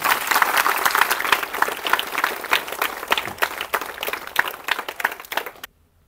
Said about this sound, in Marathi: सुरुवातीला जोरदार टाळ्या होऊन जाऊ द्या।